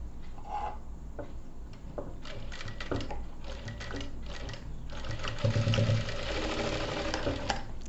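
A sewing machine stitches folded piping made from a straight saree strip onto a blouse. The needle clatters rapidly in close, continuous bursts that grow busier toward the end, with no talk.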